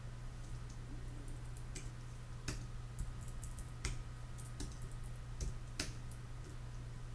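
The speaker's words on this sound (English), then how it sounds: "You can go from field to field using your mouse and keyboard." Computer mouse and keyboard clicking in sparse, irregular taps, about a dozen sharp clicks spread over steady fan-like hum and background hiss.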